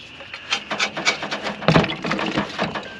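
A small chisel scrapes grime off a grimy VW Caddy TDI engine part in short, rhythmic rasping strokes, close up and fairly loud, with one heavier scrape midway.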